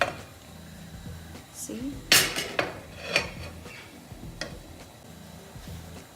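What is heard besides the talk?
turning food over on charcoal with kitchen utensils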